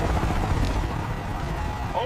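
A helicopter rotor rumble fills the scene with a dense, continuous low throbbing, loud and close, during the evacuation of Saigon, and a voice speaks over it.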